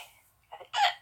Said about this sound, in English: I have the hiccups and they won't go away.